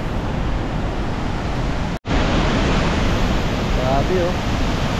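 A waterfall by a lake pours a loud, steady broadband rush of falling water, close and unbroken except for a brief dropout.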